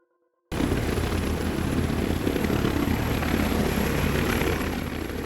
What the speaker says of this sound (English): Also known as a medevac helicopter, it is used for emergency medical services